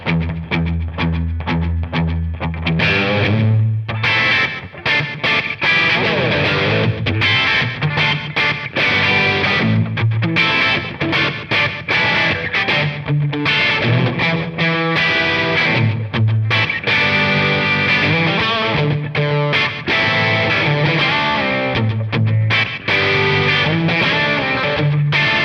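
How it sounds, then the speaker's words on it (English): Electric guitar played through a Mr Black JDD-3000+ mk. II digital delay pedal set for a short slapback echo, loud and continuous, with a distorted, doubled tone and no talking. "So I have a really cool slapback sound."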